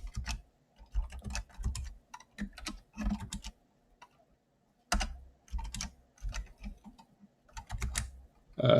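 Rapid bursts of typing on a computer keyboard during a livecoding session, clicky keystrokes in uneven clusters separated by short pauses, close and fairly quiet with no talking.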